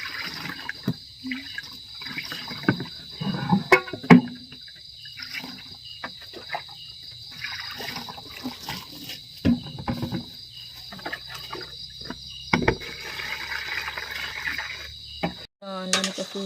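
Food is rinsed under running water outdoors at night, with intermittent splashing and pouring, crickets chirping steadily behind it, and occasional brief voices.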